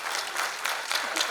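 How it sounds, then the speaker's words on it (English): An audience applauds at a trailer launch event, steady dense clapping filling a hall throughout, loud and continuous from start to finish. "Can I please request all of you to give them a wonderful round of applause?"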